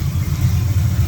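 A 1972 Pontiac LeMans idles close by, its warm engine set too low, giving a steady deep rumble with a slightly uneven pulse.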